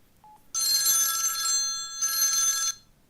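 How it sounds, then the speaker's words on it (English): A telephone bell rings in two bursts, a long trill then a shorter one after a brief gap, clear and close with no voices, preceded by a tiny faint beep. "This is the sound of a ring."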